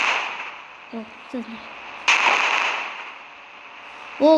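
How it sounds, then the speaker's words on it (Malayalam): Sharp synthetic gunshots crack in the game Indian Bike Driving 3D, a couple of quick pops followed by a louder blast that rings out, then another shot at the end. "ഇനി കുറച്ചേരത്തേക്ക് വെടി വെക്കുക."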